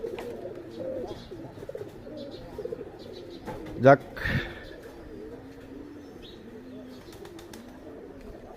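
Pigeons in new cages coo softly in the background of a village home, a low steady murmur running under someone talking.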